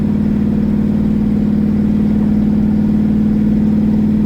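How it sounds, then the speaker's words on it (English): A small-block V8 Corvette engine idles steadily with a deep, throaty rumble, loud and close, unchanging throughout with no voices. "That old small block's got a nice deep throaty sound."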